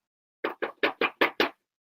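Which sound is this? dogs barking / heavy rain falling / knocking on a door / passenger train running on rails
knocking on a door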